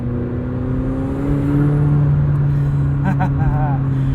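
A 2021 McLaren 720S coupe's turbocharged engine drones steadily from inside the cabin, with a rising turbo whistle and a few brief pops near the end.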